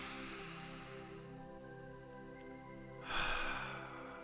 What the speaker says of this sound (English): Gonna take a deep breath for everybody.